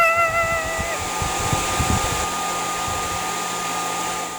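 A hair dryer blows steadily with a whooshing roar, and a woman sings over it briefly near the start.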